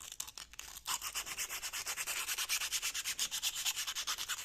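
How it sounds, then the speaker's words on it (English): Emery cloth rubbed back and forth against the rusty bore of a suspension bushing housing on a Lexus LS400, a steady rhythmic rasping scrape with quick even strokes, close and alone. "take a bit of sandpaper or emery cloth"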